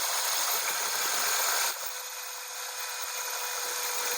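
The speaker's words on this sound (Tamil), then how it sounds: "அது இப்போ எல்லாத்துலேயும் ஒரு ட்ரில்லு போட போகிறோம்." An electric drill runs steadily on metal square tube pieces, a loud, close, continuous whir that eases slightly partway through, with no voices.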